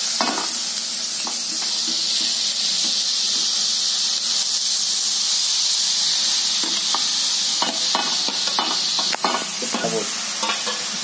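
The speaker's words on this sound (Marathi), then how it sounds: "आता मी बीट त्याच्यात घालते।" Grated beetroot tipped into a hot pan and stirred, a loud continuous sizzle and hiss with scattered scraping stir strokes throughout, close up and with no talking.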